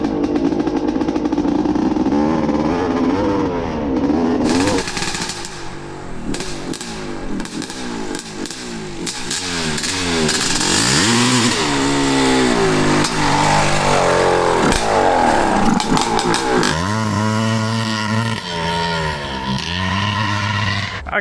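A worn, clapped-out 1985 Honda CR500 motorcycle engine revs hard and loud, its pitch sweeping up and down through repeated throttle blips and surges, cutting out briefly before roaring back close by.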